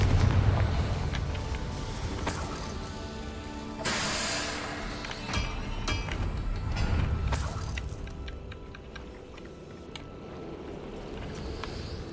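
A fiery spell explosion from the Hogwarts Legacy game bursts loudly amid dense rumbling game noise, with sharp blasts near the start, around four seconds and again near seven to eight seconds, and no talk.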